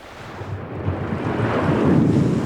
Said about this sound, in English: The waves are washing the sand on this part of the island.